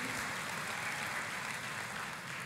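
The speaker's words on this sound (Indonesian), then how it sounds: "Tepuk tangannya boleh yang paling meriah buat Tuhan kita." A church congregation claps together, a continuous broadband wash of applause at moderate volume that holds steady, then eases slightly near the end, with no speech on top.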